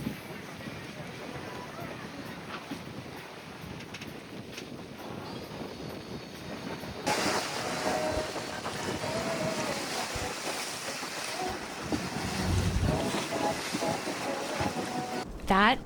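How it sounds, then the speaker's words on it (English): A catamaran riding ocean waves off Waikiki, a continuous rush of wind and water with hull splashes growing louder partway through, while people talk and exclaim over it. "I honestly loved every second of the catamaran ride."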